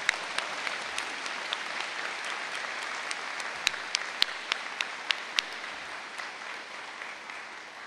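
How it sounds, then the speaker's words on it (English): Steady applause from an audience at a school ceremony, a dense even patter of many hands with a few sharper, louder individual claps standing out, moderately distant and continuing without talk. "Let's give those three a giant round of applause."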